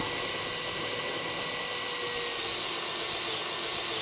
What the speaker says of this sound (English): So we've got this drill attachment.